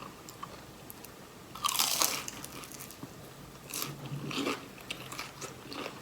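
Crispy fried Thai chive cakes (khanom kui chai) are bitten and chewed close up, giving a few loud, crackly crunch bursts between quieter chewing.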